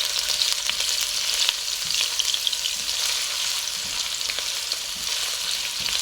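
A small amount of chopped onion sizzles steadily in hot oil in a pan, a loud, close, even hiss with faint stirring scrapes underneath.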